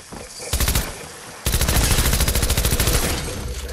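Rapid bursts of SMG fire in Fortnite: a short burst, a pause, then a longer sustained string of loud, closely spaced shots that gradually tapers off.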